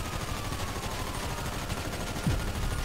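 Rapid gunfire in GTA 5, aimed at police, crackles in a dense continuous burst amid a noisy street scene and stays loud and steady throughout.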